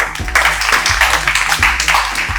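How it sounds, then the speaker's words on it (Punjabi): An audience at a school gathering in Bathinda, Punjab, claps in a dense, steady burst of applause that stays loud from start to finish, with no talk over it. "ਸੋ ਜ਼ਰੂਰ ਆਪਾਂ ਇੱਕ ਵਾਰੀ ਆਪਣੇ ਫੌਜੀ ਪਰਮ ਬਾਈ ਲਈ ਜ਼ਰੂਰ ਤਾੜੀ ਲਾ ਜੀ"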